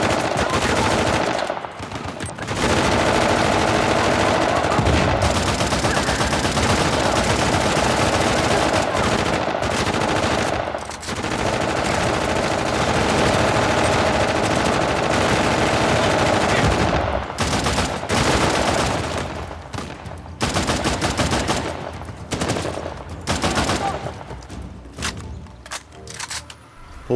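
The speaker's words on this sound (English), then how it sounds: "the amount of bullets those guys were pumping out was ridiculous" Heavy automatic gunfire from enemies in the video game Uncharted: The Lost Legacy, set in the Western Ghats, rattles in dense, loud, sustained bursts with brief gaps.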